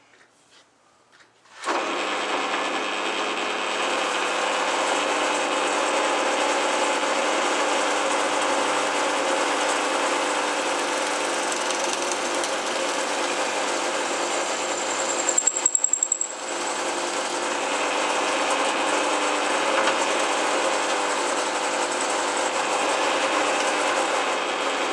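Drill press running steadily as it bores a hole through a piece of wood, a loud continuous motor whine and cutting drone starting abruptly and holding for over twenty seconds, with a brief dip and louder burst midway.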